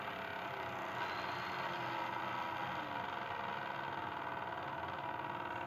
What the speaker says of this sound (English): Now the motor is rotating very low